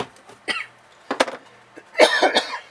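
A person has a coughing fit while mending a torn comic book with nori paste and a brush. Several bursts of coughing come close and fairly loud, with short gaps between them, and the longest, heaviest burst arrives at the end.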